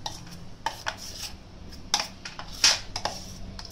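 Spoon stirring a batter of chocolate, Parle G biscuits and milk in a bowl, with light clinks and scrapes against the sides in an uneven rhythm, a few sharper taps standing out, close and fairly quiet.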